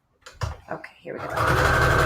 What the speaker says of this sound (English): So let's go ahead and stitch this together.